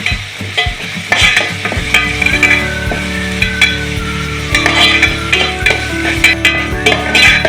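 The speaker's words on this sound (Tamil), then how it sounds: "போட்டு நல்லா வதக்கிக்கலாம்." Ginger garlic paste sautés in a hot pan, a loud close sizzle broken by repeated sharp scrapes and clinks of a spoon stirring in an irregular rhythm, no voices.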